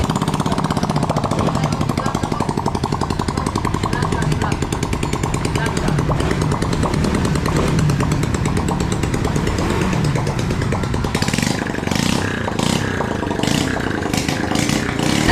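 Motorcycle engine running after repair, a loud, continuous, rapid rattling roar close to the microphone with a sharper revving stretch near the end, a voice speaking over it.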